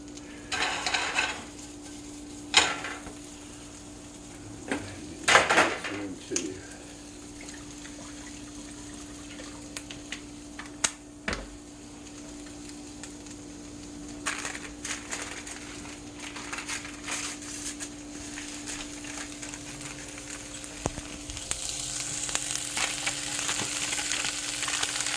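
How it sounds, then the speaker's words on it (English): Johnsonville jalapeno cheddar sausage fries in a pan, with a steady low sizzle, scattered clanks and stirring scrapes, and the frying growing louder and denser toward the end. "dump my sausage in there"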